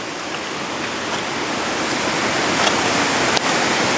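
Mountain stream flowing beside a rocky, risky footpath, a steady broadband rush of water that stays loud and constant throughout, with no voices over it.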